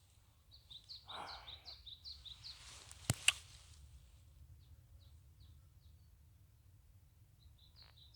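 Thin, quick bird chirps repeat in short bursts over a quiet mountain forest background in early summer, with a couple of sharp clicks midway and sparser calls later.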